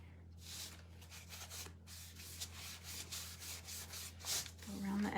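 Antiquing wax being rubbed by hand onto a wooden gnome door hanger, a soft steady brushing and scrubbing in repeated strokes over a constant low hum, fairly close and quiet, with no talking.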